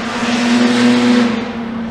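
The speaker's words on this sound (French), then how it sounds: "Ici des Bugatti de course, il y en a partout." Vintage Bugatti Type 35 race cars at the Le Mans Classic, a loud, sustained engine drone that swells and eases slightly as a car runs nearby, heard alone without talk.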